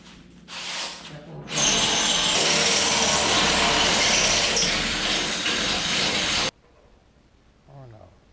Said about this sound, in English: So now I'm drilling the holes for the locking pins.